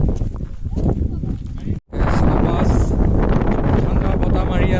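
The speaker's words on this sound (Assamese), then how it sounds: "ঠাণ্ডা বতাহ মাৰি আছে" Cold wind buffets the microphone high on Sela Pass, around 13,700 feet, as a steady, close roar with a brief dropout partway through, then gusting on just as strongly.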